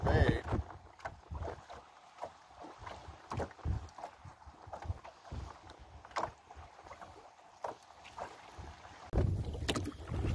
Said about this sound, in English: It's so windy, it's next to impossible to fish